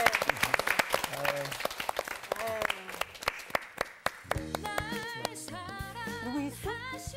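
A church lecture audience claps in sparse, separate beats that soon blend with music and faint voices; the clapping is moderately near but not loud.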